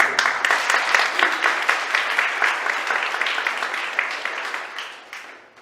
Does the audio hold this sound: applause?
yes